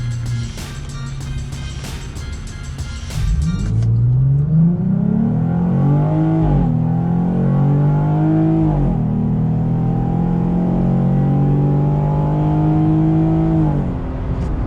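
A Jeep Gladiator fitted with a new full exhaust starts and idles with a deep, steady rumble, its engine note rising briefly before settling, close and loud throughout.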